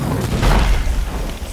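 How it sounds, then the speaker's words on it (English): Skeleton exploders burst in the Sea of Thieves pirate game, one loud, close, booming blast with a deep rumbling tail that fades over about a second. "Skeleton exploders just popped."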